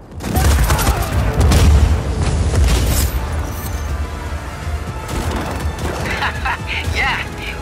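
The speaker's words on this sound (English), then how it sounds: "with those cannons going for them, the Black Hand don't stand a chance of getting this place back under control" Cannons boom and fire in rapid volleys during Just Cause 4 gameplay, loud deep blasts and crackling gunfire stacked together, easing into lighter mechanical clatter with voices speaking over the later part.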